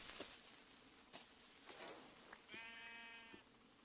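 Sheep bleating in the Minecraft Better Than Wolves mod, one wavering bleat near the end with a few faint clicks and game noises before it, no talking.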